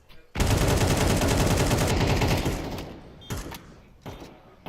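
A loud, rapid burst of automatic gunfire in Valorant ending in a headshot, sustained for about two seconds, then fading into a few scattered thuds and quieter shots.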